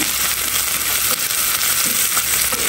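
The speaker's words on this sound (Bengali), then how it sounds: "এটা একটু ভেজে নিব। দিয়ে দিব রসুন কুচি, তার সাথে পেঁয়াজ কুচি।" Chopped garlic and onion fry in hot oil as part of a strong tempering for greens, a steady, dense sizzle that stays loud and continuous throughout with no voices.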